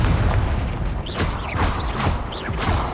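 Fiery Confringo spell blasts in Hogwarts Legacy land as a quick series of booming, whooshing explosions with sweeping magical swishes, several bursts in under three seconds over a rumbling low bed.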